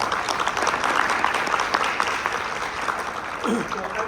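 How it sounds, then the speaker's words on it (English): Audience applause for a panelist at a health education session, a steady wash of clapping from a seated crowd lasting the whole stretch, with a low voice briefly audible near the end. "Let's give him a round of applause."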